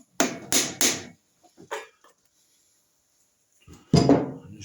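Soft-faced hammer tapping on Norton Commando cylinder head parts: three quick dull knocks, a fourth lighter tap, faint clicks, then a pause and a final heavier thud close by.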